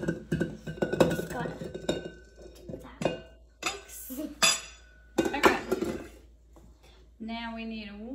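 During home baking, a rubber spatula is set on a spoon rest amid clinking dishes: bright metallic and ceramic clatters ring out in scattered knocks, with people chatting around them.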